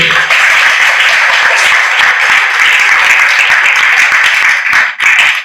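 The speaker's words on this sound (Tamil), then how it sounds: "இந்த நாளிலே அவருக்காக நம்முடைய பாராட்டுகளை கைத்தட்டி தெரிவித்துக் கொள்வோம்" A crowd at a church hall renovation event in Sembodai parish, Tamil Nadu, bursts into loud, sustained applause, many hands clapping together continuously before it tapers briefly near the end.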